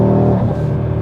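An Audi RS3 engine through quick, snappy gear changes: a loud, close, tonal engine note that dips briefly in the middle as the shift happens, then picks back up, with no voices.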